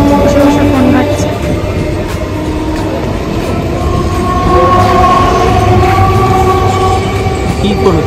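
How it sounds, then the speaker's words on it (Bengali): A train pulls into a station platform with a steady loud rumble and rattle of carriages and a sustained horn-like tone, people's voices faintly mixed in. "ট্রেন চলে আসলো আরেকটা পাশে"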